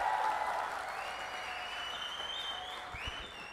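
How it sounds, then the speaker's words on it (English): Audience applause at a college graduation day ceremony, a steady wash of clapping throughout with a faint tonal ringing above it and a slight swell near the end. "I request everyone, round of applause, please."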